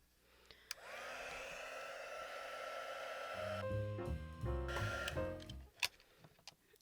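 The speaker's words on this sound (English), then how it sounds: "So we're going to take our heat gun" A heat gun warms the label on an uncorked glass potion bottle with a steady, fairly quiet airy blow. Partway through, rhythmic tonal clicks and clunks join the blowing, with a few sharp knocks at the close.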